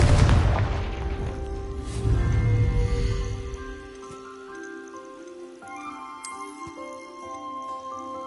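A Confringo fire spell blasts in Hogwarts Legacy on PS5 with a loud, close boom and a second heavy burst, then fades into low rumble and lingering ringing, chime-like game tones.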